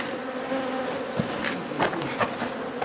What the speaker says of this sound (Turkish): Arılar kaçmaz. Kızıyor.